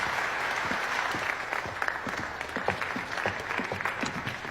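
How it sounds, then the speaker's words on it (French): An audience at a debate breaks into lively clapping, with dense overlapping hand claps in an even, continuous burst that stays close and fairly loud. "Je pense qu'on peut l'applaudir."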